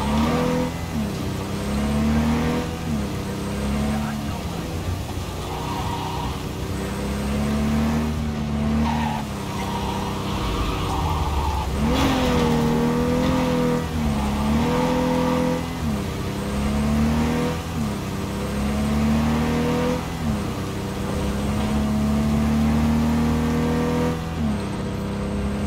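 Car driven in the video game Cyberpunk 2077, engine revving up and down through gear changes with tire squeals and skids, loud and continuous.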